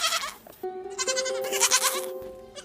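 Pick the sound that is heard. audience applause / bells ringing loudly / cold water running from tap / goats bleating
goats bleating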